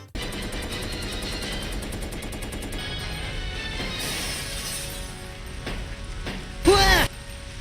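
Game gunshots from Resident Evil Code: Veronica crack out over a steady droning backdrop, then a few louder sharp reports with a ringing tail near the end.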